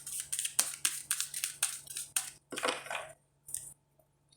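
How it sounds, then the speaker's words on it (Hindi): A deck of cards is shuffled by hand for a yes/no reading, giving a run of quick crisp riffling and snapping bursts, close and fairly loud, then a few separate slaps before a short pause. "Let me shuffle."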